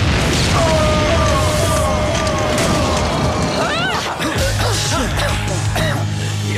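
A loud, chaotic cartoon battle scene with booming blasts and crashes, wailing tones and shouting voices, ending in a deep rumbling explosion.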